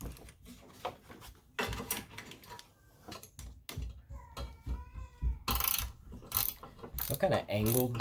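A socket wrench ratchets on the battery terminal connection of a 2015 Chevy Equinox, in short bursts of quick clicking with pauses and a squeaky scrape, close up with no talking.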